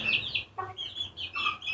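Desi chickens on a small poultry farm with a 10x12 room cluck and squawk close by in quick bursts, with a few higher calls between the clucks.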